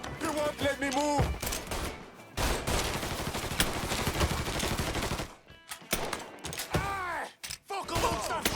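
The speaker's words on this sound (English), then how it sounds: "don't stop shooting!" Gunfire in Mafia 3, with bursts of rapid shots and sustained fusillades, loud and close, broken by short pauses, and shouted voices between the volleys.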